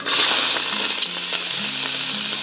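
Tomato, onion, ginger and lemongrass sauté in a hot wok for a mussel soup, a loud, continuous sizzle with a few crisp spatters and light stirring motions.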